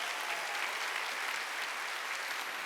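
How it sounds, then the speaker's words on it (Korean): A church congregation at a Sunday worship service claps hard, a dense, steady wash of many hands filling the room at moderate loudness, with no talk over it. "깨달았으면 박수 세게 치라고"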